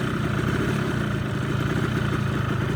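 A Ford 3600 tractor engine idles with a steady, even low chug and rumble that holds without a break, close by and fairly loud, with no voices.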